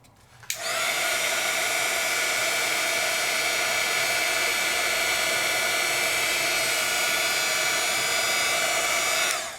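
A heat tool blows a steady, loud whooshing roar, starting abruptly after a brief quiet moment and running continuously while it melts embossing powder on a stencilled craft project.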